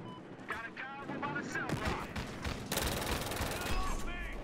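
A Scorpion gun firing in close quarters in the video game Battlefield Hardline, rapid automatic bursts mixed with other battle noise, under a voice talking.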